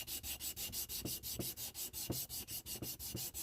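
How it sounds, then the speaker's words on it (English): Sandpaper rubs back and forth along the blade of a handmade slip joint pocket knife in quick, even strokes, about five per second, a soft, close, rhythmic rasping with no talk. "And this will clog up sandpaper fairly quickly."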